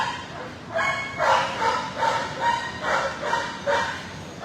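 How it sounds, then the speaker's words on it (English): A dog barks in a series of short, sharp yips, about six in quick succession, fairly close. "Hi, Ace, you were barking at me. Are you gonna bark at me?"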